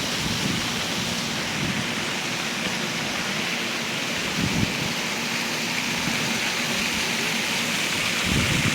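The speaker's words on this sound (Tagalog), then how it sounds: "ganda ng falls na yan" The waterfall at the Emerald Palace in Abu Dhabi gives a loud, unbroken rushing roar of falling water that holds steady from start to finish.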